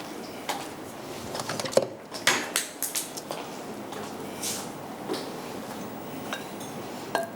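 A big spoon scoops haleem from a pot, making a few soft scrapes, knocks and metallic clinks close by. The sounds are quiet and scattered, with no talking.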